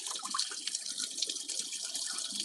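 Hot water running steadily from a tap in an old house's second-floor plumbing, a continuous close hiss and splash with faint trickling detail and no voices.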